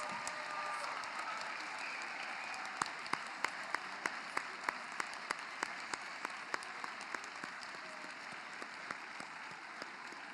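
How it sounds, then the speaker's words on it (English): An audience applauds new National Honor Society inductees at the Washington Township High School induction ceremony. The clapping is dense and steady, with sharp individual claps standing out, and it keeps going through the whole stretch. "Please join me in a round of applause for all our new inductees."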